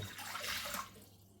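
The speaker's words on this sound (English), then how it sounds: "Fill it with warm water." Warm water pours steadily into a bowl in a kitchen while bread is being made, a continuous splashing rush that swells and then eases slightly over a second or so.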